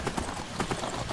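Horse hooves clip-clop at a steady walking pace in Skyrim, a short run of even, muffled thuds under a faint ambient bed.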